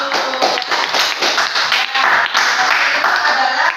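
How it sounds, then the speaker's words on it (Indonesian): A school class applauds together, a brisk cluster of many hands clapping close by, fairly loud and sustained for a few seconds with a little chatter underneath. "Tepuk tangan dulu."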